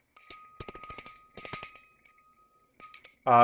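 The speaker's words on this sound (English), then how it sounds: "I'm gonna ring the bell right there." Several bright metallic bell rings in quick irregular bursts, each with a short ringing tail, followed by a pause and a brief final burst.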